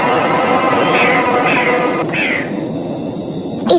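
A kitten meows a few times with thin, rising cries that sit half-buried under a steady, noisy background, moderately near.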